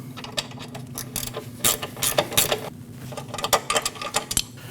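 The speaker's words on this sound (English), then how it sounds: "that's a 15mm nut. Hold the center with your 5mm Allen." A ratchet wrench tightens a 15mm nut on the sway bar link of a 2014-2023 Jeep Cherokee. Close, rapid bursts of ratchet clicks come in uneven groups, with short pauses between strokes.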